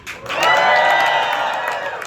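A Bowery Ballroom crowd bursts into loud cheering, whoops and clapping during an applause vote at a comedy opening set, swelling quickly and holding steady as a dense, close wall of crowd noise.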